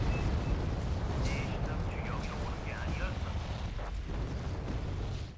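Artillery explosions in the video game Wargame Red Dragon rumble as a dense, continuous low roar with scattered bursts across the whole stretch, loud and sustained, with faint voice traces mixed in.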